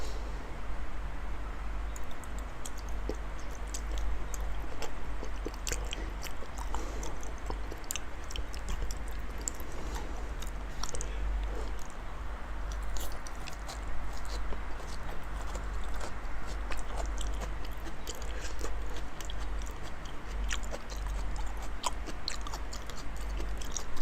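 Wet, steady chewing and biting on big mouthfuls of salmon, close and continuous for the whole stretch with small crunchy clicks over a constant low hum, no talking.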